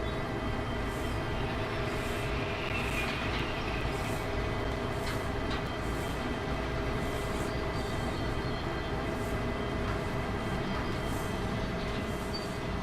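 Heavy freight train of about twelve cars rolling along in the game Derail Valley, a continuous dense rumble of wheels and rails with faint squeals, steady and loud throughout, no talking.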